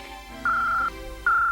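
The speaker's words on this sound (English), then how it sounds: "that's the secret gadget phone" A cartoon secret gadget phone rings in two steady electronic tones, each about half a second long with a short gap between, clear and close with no talk.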